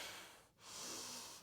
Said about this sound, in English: Big belly breath